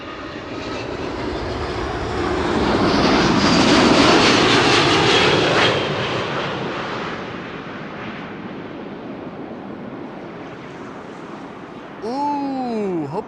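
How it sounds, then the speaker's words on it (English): A Delta Air Lines Airbus A330neo jet on approach to Amsterdam Schiphol, its engine roar swelling to a peak and slowly fading under steady wind, with a brief rising whine near the end. "Delta Airlines Flight 144 is approaching, arriving from Seattle, Washington, A330neo."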